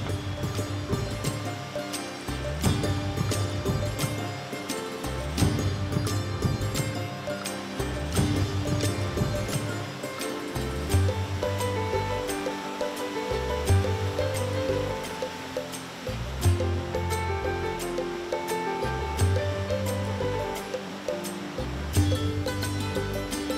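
Sea water surges up through the Le Souffleur rock blowhole, a continuous loud roar of surf and rushing spray with repeated swells of force every few seconds, heard alone without voices.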